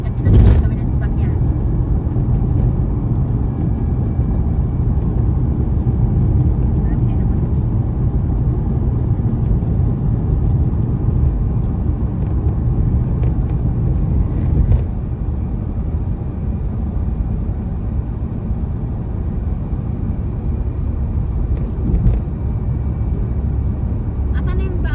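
Car interior on a drive through the Saudi desert near Madina, a steady low engine and road rumble throughout, with people talking over it.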